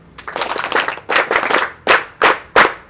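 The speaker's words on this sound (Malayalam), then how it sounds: "അപ്പോൾ നിങ്ങൾ നല്ലൊരു ക്ലാപ്പ് കൊടുക്കുക, NSSൻ്റെ ക്ലാപ്പ്." NSS school volunteers at a hospital clap in unison, first in a quick run of rhythmic claps, then in several slower, sharp group claps evenly spaced, loud and close.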